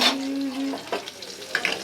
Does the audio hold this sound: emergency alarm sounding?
no